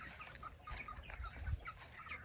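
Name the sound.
chickens clucking, roosters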